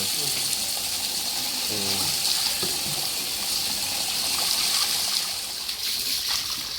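Water pours and splashes steadily over a German shepherd during a bath, a continuous close running-water hiss throughout, with a voice talking softly underneath.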